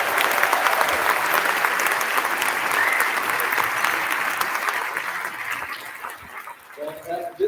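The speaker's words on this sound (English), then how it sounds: "Let's give them one more round of applause." A school auditorium audience at a beginning and second-year band festival concert applauds after a performance, loud dense clapping that gradually thins and fades toward the end as a few voices emerge.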